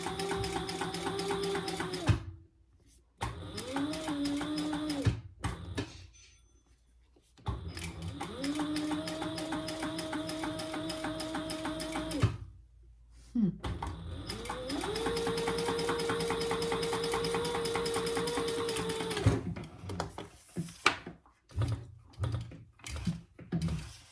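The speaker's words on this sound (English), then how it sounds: "my first experience sewing with jelly, and only my second experience sewing with clear vinyl." A sewing machine stitches jelly and clear vinyl with variegated thread in several bursts of rapid, steady whirring, separated by short pauses and followed by a few clicks and handling sounds at the end.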